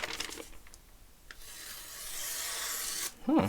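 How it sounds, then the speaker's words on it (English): A knife blade is drawn across sandpaper in soft rasping strokes, a few quick short passes followed by one long, steady scrape, quiet and close. "So same knife, sandpaper."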